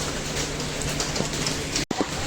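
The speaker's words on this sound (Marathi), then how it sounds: "पाऊस पडत आहे मस्त मजा" Steady heavy rain in Boisar, Palghar, India hisses and patters throughout, broken by a brief dropout near the end, with a low hum underneath.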